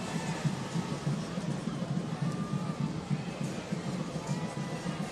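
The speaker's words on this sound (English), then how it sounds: "Hearing it from the San Antonio crowd there in the corner." San Antonio FC supporters in a corner of the stadium roar steadily during a soccer match against Indy Eleven, a dense, continuous crowd din with no clear breaks.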